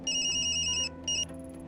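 Electronic phone ringtone from the video game Tokyo Dark, a quick burst of trilling rings, then a brief second ring that cuts off, over soft background music with no talking.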